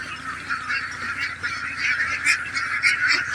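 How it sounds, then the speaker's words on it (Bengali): Domestic ducks call over and over at close range, with loud, honking quacks that overlap continuously and have no pauses. "এবার আমরা হাঁসগুলি ছেড়ে দেবো ইনশাআল্লাহ"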